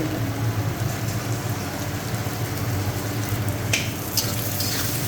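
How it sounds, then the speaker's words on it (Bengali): Chilli frying in hot oil in a pan, a steady dense sizzle throughout with a few faint clinks of a utensil. "মরিচটাকে একটু ভেজে নেব আমি"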